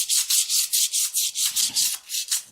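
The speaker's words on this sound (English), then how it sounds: "Just sand it down." Sandpaper scrubs by hand over rusty spots on a salvaged metal garden piece, about ten rhythmic back-and-forth strokes, close and loud, with no talking.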